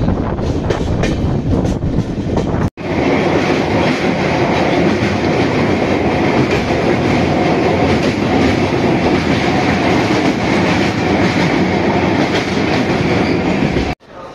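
An Amrit Bharat Express train runs near Kharagpur railway station, giving a loud, steady rumble with rhythmic wheel clatter and wind buffeting. The roar breaks off for an instant partway through, then returns without pause.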